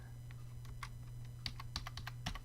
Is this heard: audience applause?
no